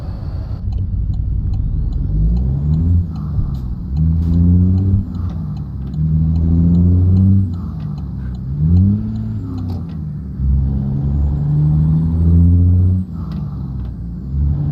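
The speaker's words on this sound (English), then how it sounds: "Mark, this one is diesel because I can tell because it's got an exhaust" Diesel truck engine in American Truck Simulator, idling and revving in repeated rising surges with gear-change dips, loud and close throughout, with faint clicks above and no speech.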